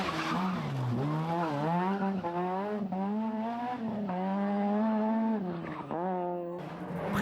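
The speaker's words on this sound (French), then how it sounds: "Freinage tardif pour Thierry" A rally car brakes late on a road stage of the 1993 Circuit des Ardennes, giving a sustained, loud tonal skid and engine whine that dips and rises in pitch over several seconds.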